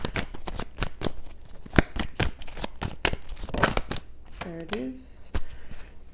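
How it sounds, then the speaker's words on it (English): A deck of tarot cards being shuffled by hand, a quick run of crisp riffling snaps and slaps, close and clear, with a brief voice partway through. "that was my poor shuffle"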